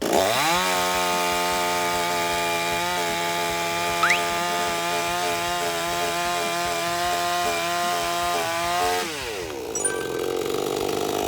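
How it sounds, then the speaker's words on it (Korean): A budget petrol chainsaw priced around 100,000 won runs loud and steady as it cuts through single and doubled blocks of ice, its engine note holding near for about nine seconds before dropping off as the cut finishes. "지금 이렇게 얼음을 한 개짜리랑 두 개짜리랑 같이 잘랐는데 굉장히 스무스하게 잘"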